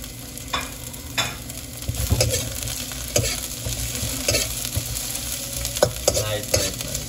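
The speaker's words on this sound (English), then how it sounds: "Add in the pepper and then one time. And we're gonna let it saute in the oil for a little bit" Onion, pimento and pepper sautéing in oil for a Trini-style crab dish, a steady sizzle broken by repeated scraping stirs and clinks of a utensil against the pan, fairly close and with no talk.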